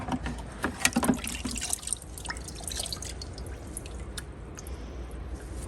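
Water splashing and dripping as fan parts from a 75-year-old Emerson K60 shop fan are rinsed after a rust-remover soak, with louder spatter early then softer trickling drips, close by, no talk.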